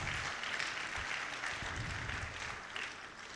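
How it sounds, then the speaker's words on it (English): Audience applause at a college orientation programme for fresh sandwich students, a steady sustained round of clapping from a large crowd, dense and even throughout, easing slightly toward the end with no talk over it. "Shall we give him a better round of applause?"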